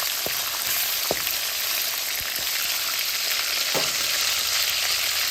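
Onion and green chillies sautéing in hot oil for a tomato-cabbage kuzhambu, a loud, dense, unbroken sizzle with a few sharp spoon taps and scrapes, close and with no voices.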